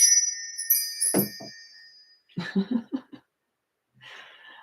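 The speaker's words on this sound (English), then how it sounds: "let's call in spirit with a little bit of wind chime time." Wind chimes ring with clear sustained metallic tones over the first two seconds, then fade. Soft breathy, laugh-like sounds follow, with a faint rustle near the end.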